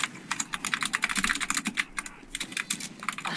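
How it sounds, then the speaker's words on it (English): Rapid, furious typing on a computer keyboard during a Team Fortress 2 game session, a dense, steady run of close clicking keystrokes with brief pauses and no talk. "Who's going full hog on their keyboard?"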